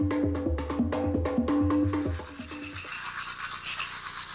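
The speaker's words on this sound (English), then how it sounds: "One of his strangest new drums is this one he calls Og. It has 2 heads, 2 sound chambers" A homemade two-headed drum with two sound chambers, played with hands, knee and chin, gives a rapid run of resonant pitched knocks and buzzy rattles that thins into a hissing, fading wash; close and alone, with no talk.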